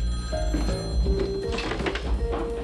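A telephone rings in a 1993 film, its bell trilling in short bursts over a busy background of thumps and shuffling.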